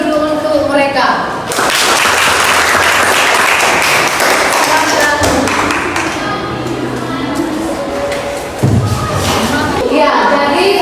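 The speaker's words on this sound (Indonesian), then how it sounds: "Mari kita kasih aplaus dulu untuk mereka." Children in a classroom clapping together in a sustained round of applause, dense and close, fading briefly before another burst of clapping.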